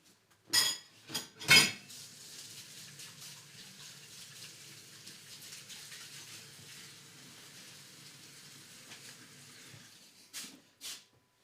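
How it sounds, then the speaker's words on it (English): Electric mixer beaters are washed in a kitchen sink: a few sharp metallic clanks at the start, then a steady running tap and water rushing for several seconds, and more clattering knocks near the end, with no talking. "I want to throw them in the sink real fast so I can get them wiped down."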